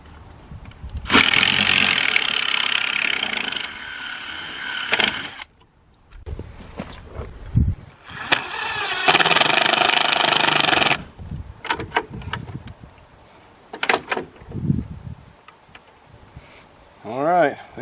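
A handheld drill runs in two loud whirring bursts of several seconds each, separated by pauses, with people talking between and after the runs.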